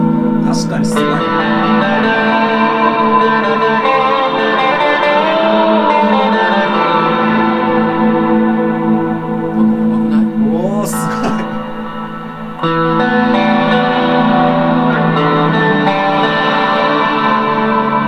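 Long, ringing guitar chords through a BigSky reverb pedal, drenched in heavy reverb, with a pitch-sweeping swell midway and a brief fade before the sound returns full.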